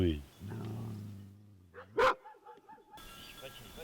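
Dogs at a mountain farm bark and yip a few times, fairly faint and at a distance, among other soft farmyard sounds and brief noises.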